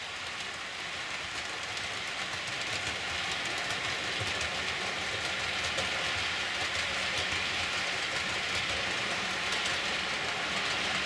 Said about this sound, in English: when the engine's going around that curve, the rear end's just coming out of the tunnel